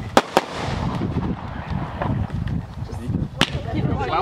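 Backyard fireworks going off: a few sharp, loud bangs near the start and another just past the middle, with crackling in between and people talking and calling out throughout.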